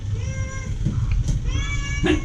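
A hungry stray cat, a mother with kittens nearby, meows repeatedly up close; several drawn-out cries come one after another with only brief pauses, over low background rumble.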